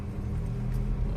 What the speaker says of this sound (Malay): Ada kereta datang belakang